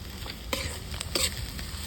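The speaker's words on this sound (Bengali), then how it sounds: "ধীমা ধীমা আছে ভাজছি হালকা হালকা আছে" Grated ginger and garlic fry gently over low heat, a soft steady sizzle with a few sharp stirring scrapes from a spoon in the pan.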